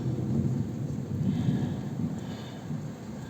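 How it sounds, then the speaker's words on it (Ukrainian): Low rumbling thunder rolls beneath a steady wash of heavy rain, with no voices. "Гляньте, який дощ гримить"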